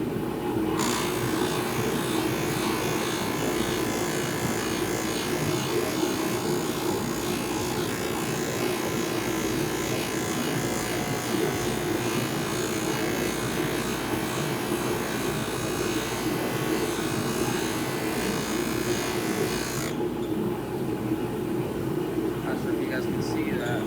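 A polishing wheel runs against stainless steel pipe being prepared for welding, giving a steady, loud abrasive whir and buzz throughout that stops abruptly near the end, leaving quieter hum.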